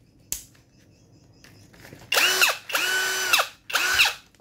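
Marula MR-HD0120AK cordless 3-function drill with a wood and metal bit, spinning up in three close bursts, the second longest, each with a whining motor pitch that rises and falls, after a brief click.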